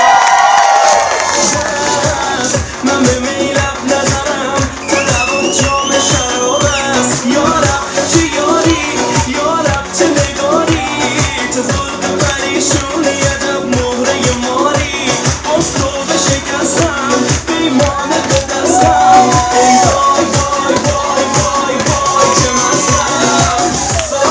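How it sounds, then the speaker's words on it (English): Wedding guests cheering and clapping for the bride and groom, a loud, steady crowd roar mixed with whoops over pounding, rhythmic dance music that plays throughout. "a big round of applause for our beautiful bride and groom"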